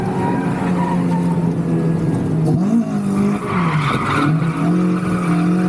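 A Toyota AE86 drifting through track corners, its engine droning loud and steady with pitch rising and dipping through gear and throttle changes, and tire squeal running under it all the way.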